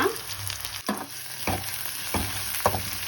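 Crushed garlic and onion sauté in a pan for a home-style dish, a steady bright sizzle running throughout with several sharp stirring scrapes spaced about half a second apart, close and fairly loud with no talking.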